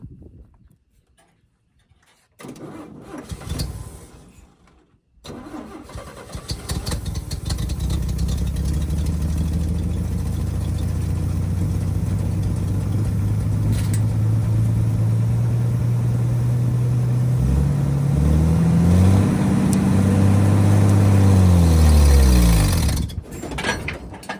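An old oil field engine cranks over while trying to start, giving a loud, continuous low churning that rises gradually in pitch before cutting off abruptly, with brief quieter gaps near the start.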